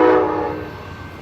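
Amtrak's Empire Builder passenger train, Train 8, passing through the Twin Cities, Minnesota, in snow, its horn sounding loud and close at the start, then fading into a steady rolling rumble.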